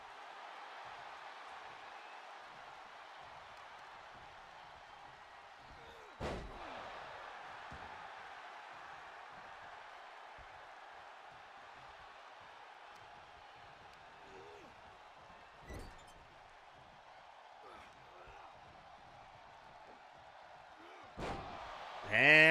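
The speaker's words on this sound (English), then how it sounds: "And slamming Lock-in down" A wrestler is slammed onto the ring mat at a wrestling show: a few sharp thuds strike, the loudest near the end, over a faint crowd murmur and commentary.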